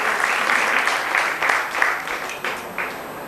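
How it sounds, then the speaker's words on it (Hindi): Audience applause welcoming a visiting director at a gathering at BARC Tarapur, a steady wash of many hands clapping at moderate distance, with a few louder bursts of clapping through the round. "हम चाहेंगे कि तालियों से उनका स्वागत करें।"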